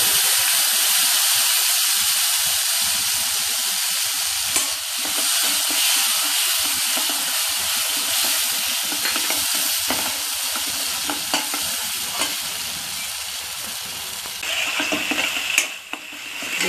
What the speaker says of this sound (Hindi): देखिए, मैं मसाला भून रही हूँ।